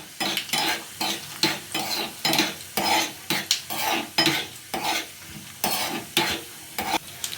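Red chili and cumin crackle in hot ghee for a khichdi tadka, with steady sizzling broken by repeated stirring scrapes of a spoon against the pan, close and moderately loud, no voices.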